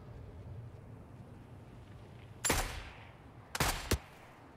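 Mounted turret fire in The Forever Winter, a video game: a loud broadband burst of automatic fire, then a second tighter volley about a second later, standing clear of a low, quiet rumbling background.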